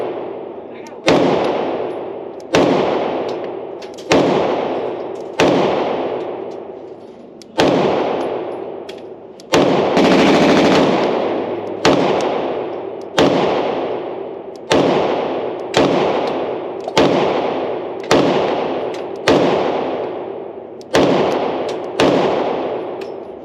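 Girsan 2311 Match X pistol firing a full magazine, about fourteen sharp, loud shots in a steady unhurried rhythm, each with a short ringing decay, with no talking.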